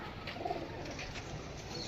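Baby pigeons cooing softly in a loft, a few low murmuring coos close by over faint background noise.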